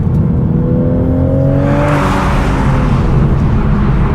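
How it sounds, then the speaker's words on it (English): A Toyota GR Supra engine revs loudly and steadily nearby, its pitch rising then settling into a deep, throaty drone. "It's a nice sound to that engine."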